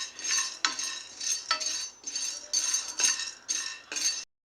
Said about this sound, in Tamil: 1/4 டம்ளர் பொரியல்ல பொட்டுக்கடலை, இதையும் நல்ல பொன்னிறமாக வர்றது வரைக்கும் வறுத்துக்குருவோம்